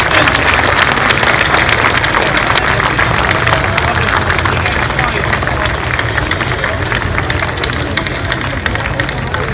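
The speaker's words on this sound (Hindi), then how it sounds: "आपसे मेरी गुजारिश है कि खड़े होकर तालियों से इसका यकीनी का इस्तेमाल करें" A large audience applauds after being asked to stand, a dense, steady wash of clapping that fills the whole stretch alongside crowd murmur and a low rumbling hum underneath.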